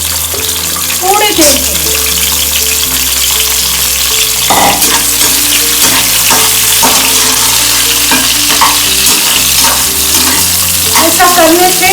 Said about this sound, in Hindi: इसके बाद में जो ड्रम स्टिक है तो ये तेल में तल लेना।